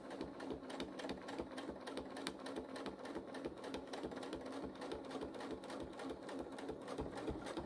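A sewing machine runs steadily through free-motion couching, its rapid needle strokes forming an even, continuous rhythm at close range for the whole stretch, with no talk.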